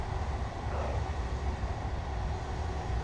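Trains running on London's Met line in Train Simulator Classic make a steady, low rumble with a faint mechanical hum on top. The noise holds constant with no voices.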